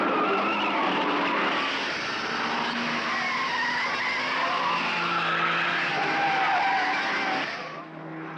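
A 1971 Ford Falcon GTHO race car at full speed down Conrod Straight at Bathurst during the Hardie Ferodo 500, its loud, sustained engine roar dense and unbroken, easing slightly only at the very end.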